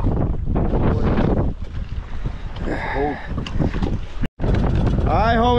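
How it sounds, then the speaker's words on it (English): Gusty wind buffets the microphone on open water in the Florida Keys, a steady roar with a speedboat's hum beneath and voices speaking intermittently. "It is windy, boy. It's gonna be windy."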